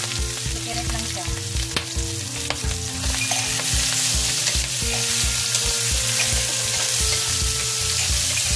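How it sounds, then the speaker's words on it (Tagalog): Onion dropped into a pan of frying steak, a loud, continuous sizzle close up with rhythmic scraping and stirring throughout, no talking. "Guys, ilagay na natin yung ating sibuyas dyan."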